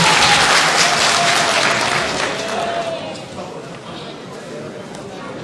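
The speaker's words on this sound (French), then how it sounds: "Je vous prie d'applaudir pour la vice-présidente" Audience at a New York gathering applauding the vice-president of a political organisation, loud crowd clapping that gradually fades, with a voice briefly carrying over it early on.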